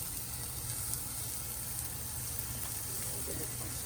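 Homemade wild hog bacon sizzles steadily in a dry pan with no oil, a continuous fairly quiet crackling hiss with faint pops running throughout.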